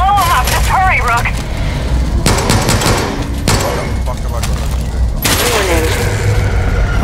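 In Far Cry, gunfire and explosions destroy consoles. Loud bursts of automatic fire and booming blasts come close, with a few whistling tones and a voice partly under the shooting.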